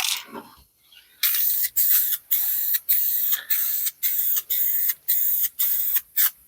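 White spray paint hissing from an aerosol can for spray paint art, after a short rattle, as a run of about nine regular sharp bursts with brief gaps, close and loud, with no talk.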